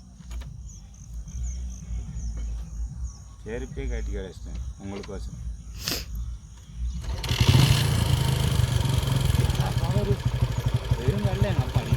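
An old motorcycle being kick-started outdoors: after a few seconds of crickets chirping and scattered clunks, the engine catches and runs loudly and steadily for the rest of the clip, with voices in the background.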